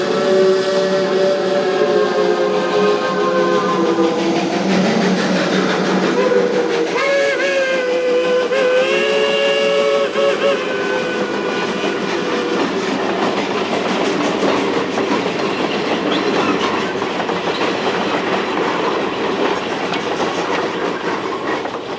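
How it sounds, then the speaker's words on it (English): A steam train roars through a tunnel as a radio drama sound effect, with a long wavering steam whistle over a loud, continuous rumble and clatter of the wagons that holds steady to the end. "the train entered a tunnel"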